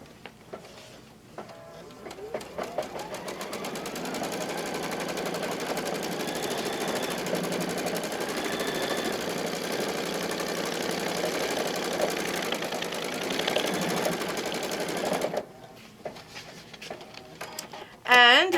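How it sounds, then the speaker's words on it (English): An embroidery sewing machine stitches a foam placement line onto a tea towel, a fast steady mechanical whir and clatter running for about fifteen seconds before stopping, with faint clicks around it and no talk over the stitching. "it's going to stitch the foam placement"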